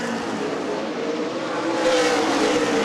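Stock cars racing at Winchester Speedway during an ARCA/CRA Super Series event, a steady loud roar of engines rising slightly toward the end, with no talk over it.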